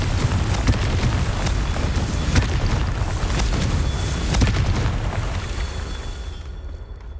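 Confringo explosive spell in Hogwarts Legacy, a loud sustained rumbling blast with crackling bursts and sharp pops, fading out toward the end.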